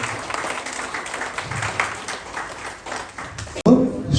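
At an honouring ceremony in Mumbai, an audience claps in a steady wash of applause mixed with murmuring voices, then the sound cuts off abruptly near the end.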